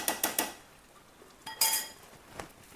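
A metal lid and utensils clink against a cooking pot of matar paneer: three quick sharp clatters, a pause, then a louder rattling clank and a final light tap, all close and without voices.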